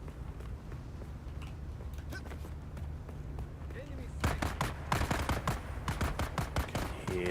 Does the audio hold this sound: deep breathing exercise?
no